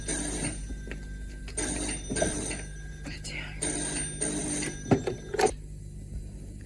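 A telephone bell rings in a domestic Egyptian setting, sounding as a few repeated bursts with gaps between them over background noise, with occasional knocks and brief sounds mixed in.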